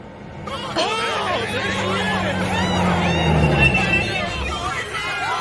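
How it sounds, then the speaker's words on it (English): A large crowd murmurs and chatters at a busy gathering ahead of a premiere, a dense, steady babble of many voices close by, with a low engine-like rumble underneath. "What is this crowd here for?"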